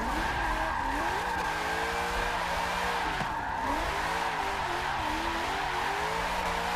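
Car drifting through a turn in the Forza Horizon racing game, a steady loud engine drone with gliding, wavering pitch and continuous tire squeal throughout, with no talk.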